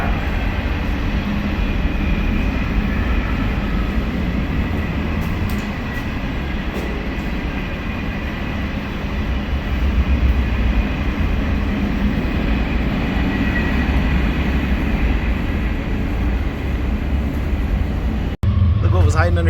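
A train rolling past a parked truck and dry van trailer, a long continuous rumble and clatter filling the whole stretch, loud and close, with a sharp click near the end.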